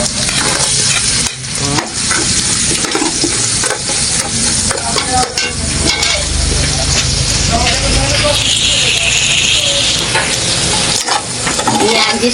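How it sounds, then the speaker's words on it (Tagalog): Onion and garlic sautéing in oil left from frying hotdogs: a loud, continuous sizzle and crackle with constant stirring and scraping in the pan, close up throughout. "dito na po ako nag-isa ng sibuyas at bawang sa pinagprituan ko po ng hotdog"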